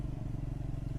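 A Triumph Scrambler 400X motorcycle riding, its engine a low, pulsing rumble heard steadily and fairly quietly, with no voices.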